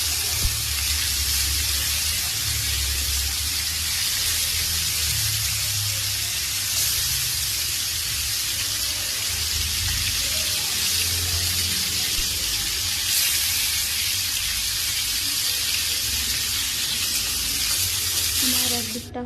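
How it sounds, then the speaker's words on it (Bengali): Marinated aila fish pieces fry in hot oil with a loud, constant sizzle and crackle that holds steady throughout, close to the pan. "মাছগুলো আমি তাড়াতাড়ি আগে ভেজে নিচ্ছি সুন্দর করে"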